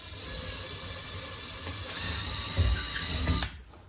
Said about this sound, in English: You want to perfectly center drill this